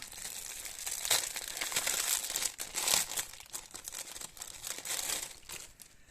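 Plastic packaging of a kitchen bag organizer crinkles and rustles as it is opened by hand, with continuous close, crisp crackling and a few sharper crunches throughout.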